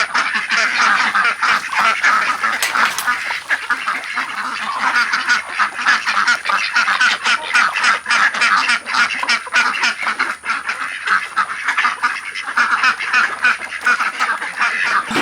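Ducks quacking steadily in an enclosed backyard run on a small homestead, a dense, loud chorus of overlapping quacks and honks with no talk.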